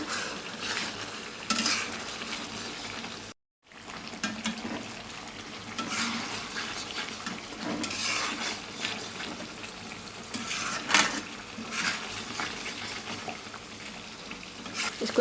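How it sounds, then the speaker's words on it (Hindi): Chicken black pepper karahi fries and sizzles steadily in a pan while a spoon stirs it gently, with scraping and clinking of metal against the pan, broken by a brief silent gap. "तो अपने आराम आराम से इसको इस तरीके से चम्मच में हिलाना है।"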